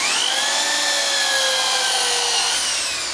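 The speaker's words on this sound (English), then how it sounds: "So that's it for the sanding." Green timber bowl being sanded as it spins on a wood lathe, a steady continuous whir with a high rising hum that holds level, then eases slightly near the end, with no talking.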